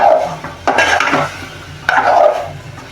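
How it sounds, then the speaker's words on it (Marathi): Masala sautéing in oil for a green peas and potato curry is stirred in a pan, with loud scraping strokes in two bursts over a gentle sizzle, close and without talk. "आता आपण हे तेलावर असं मसाला मस्त परतून घेऊया"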